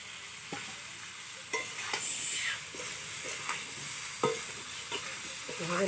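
Chopped ridge gourd fries quietly in a pan, with a faint steady sizzle broken by soft, irregular scrapes and knocks of a spatula stirring it, heard up close.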